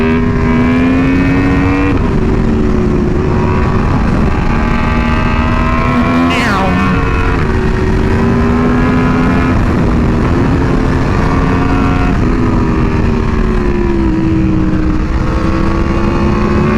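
An Aprilia Tuono V4R motorcycle engine revs hard and steadily during wheelies, a loud close droning roar with rising and falling pitch and one sharp surge midway.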